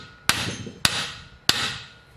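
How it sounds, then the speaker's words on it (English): Three sharp hammer blows striking the hard plastic of a car steering wheel, evenly spaced, each loud crack ringing briefly before fading. "this hammer will sort it out"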